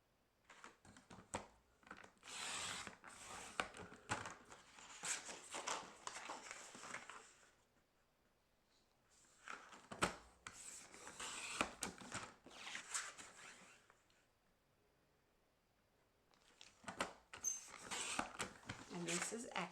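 Paper cutter or scissors slicing cardstock into 4.5-inch squares for a crafting project, heard as three separate bursts of crisp scraping and snipping with quiet pauses between them. No one speaks.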